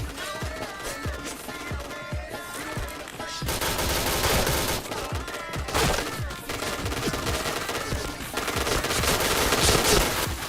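Rapid automatic gunfire rattles through a multiplayer shooter in bursts of dense, close shots that grow heavier halfway through and keep going with little pause.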